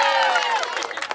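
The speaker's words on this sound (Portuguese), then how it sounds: "Salva de palmas para nossa homenageada" Crowd applause and cheering for a guest of honour at a wife's birthday celebration in São Paulo's north zone, a dense burst of clapping and voices that thins slightly toward the end.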